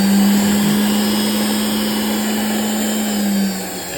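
A Duke blender motor runs with its belt removed, a steady loud hum holding one pitch for several seconds before winding down slightly at the end, alone without talk.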